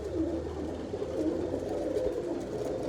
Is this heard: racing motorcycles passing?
no